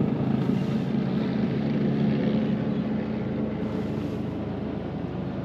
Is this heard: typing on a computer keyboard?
no